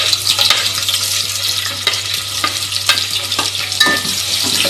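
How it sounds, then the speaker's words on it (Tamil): Sliced onions frying with biryani whole spices in a pan, a loud continuous sizzle with a spoon stirring and scraping now and then, close up and with no voices. "நல்லா பொன்னிறமாக வறுத்தா வதக்கிக்கலாம்"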